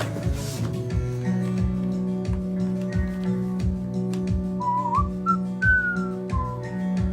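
A melodic whistled tune rides over a steady, rhythmic musical backing with regular beats, clear and prominent.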